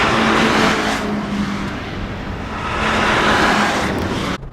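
A Porsche 911 Turbo, bought cheaply, drives hard on a race track, its engine a loud, continuous roar with road and wind noise that swells and eases before cutting off sharply at the end.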